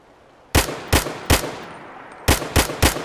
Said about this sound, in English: I'm shooting wildly